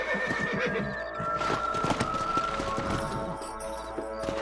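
Horses in Red Dead Redemption 2 whinny and their hooves clip-clop in a brisk rhythm, close and fairly loud, with faint music-like tones underneath.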